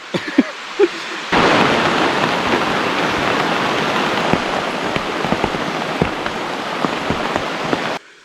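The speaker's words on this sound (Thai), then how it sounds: "เพื่อนครับฝนตก" Heavy jungle rain pours down in a dense, steady hiss after a few faint taps, with rumbles of thunder and scattered louder drops on nearby surfaces, then stops abruptly near the end.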